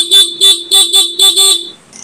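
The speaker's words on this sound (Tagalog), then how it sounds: "Ito sample ng stock niya." Stock horn of a Honda ADV 160 scooter, heard close and loud in six short, evenly spaced beeps, each a bright, steady tone.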